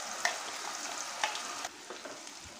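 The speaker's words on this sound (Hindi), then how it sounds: "और इसी के साथ डालेंगे पेस्ट जो हमने अभी तैयार किया था, मिर्ची और लहसुन का पेस्ट।" Chili and garlic paste sizzles steadily in a hot pan, a continuous frying hiss with a few soft stirring scrapes and no voices.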